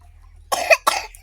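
A person gives two quick, close, rough coughs in a row in an otherwise quiet space.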